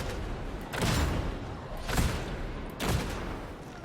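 Combat shotgun firing in the video game Darktide, three booming shots roughly a second apart, loud and close over constant noisy battle din.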